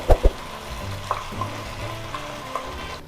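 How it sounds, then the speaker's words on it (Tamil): Ground green paste sautéing in a pan with fried onions and curry leaves, a steady close sizzle broken by a couple of sharp spoon knocks at the start and light stirring scrapes, no voices. "நம்ம அரைச்சி வச்சுருந்த பேஸ்ட்டு போட்டுக்கலாம். பேஸ்ட்டு போட்டுட்டு நல்லா வதக்கிடணும்."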